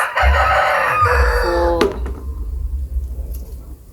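A rooster crows loudly and close by in a village yard where chickens are kept, one long crow ending sharply. Low clucks and farmyard rumble follow, with a faint voice nearby.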